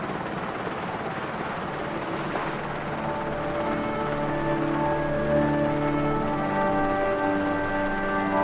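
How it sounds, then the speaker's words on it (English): A helicopter's rotor thrums steadily in the Resident Evil remake alongside an engine whine that rises in pitch as it draws nearer, continuous and fairly loud. "the helicopter comes and picks us up"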